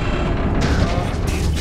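A rocket explodes in the Guardians of the Galaxy video game, a dense booming roar that swells with two sharp bursts of debris and blast noise.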